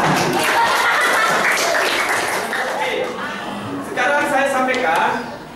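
A classroom of pupils claps along to a counting clap chant, with dense, busy clapping and chanting voices throughout that ease briefly before swelling again.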